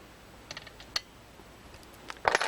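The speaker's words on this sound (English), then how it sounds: "then I'll snug the bottom screw down" A screw being snugged down by hand on an Ampex Mark 10 quad tape rotary transformer, heard as a few faint, sparse clicks and ratcheting ticks that end in a brief louder burst of scraping, quiet and close.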